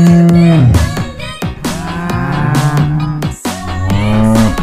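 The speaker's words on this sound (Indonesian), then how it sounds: "Ada sapi warna kuning teman-teman" A yellow cow moos loudly and repeatedly, long drawn-out calls with falling pitch, close by with no talk over them.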